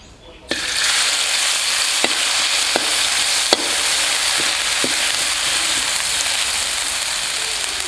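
Garlic, pepper and coriander root paste is stir-fried in a hot pan for Thai stewed eggs, a loud continuous sizzle starting abruptly, punctuated by several sharp utensil taps against the pan.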